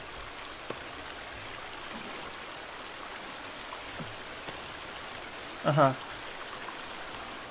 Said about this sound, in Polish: O, dobra, to jest woda.